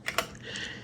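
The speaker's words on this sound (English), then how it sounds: "It's literally a real Alps mechanical keyboard." Keys clack on a real Alps mechanical keyboard, the PC counterpart of the 1990s Apple Extended 2: two sharp, close clicks in quick succession, then a faint, quiet tail.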